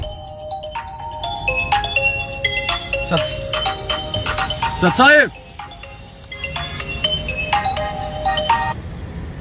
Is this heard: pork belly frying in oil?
no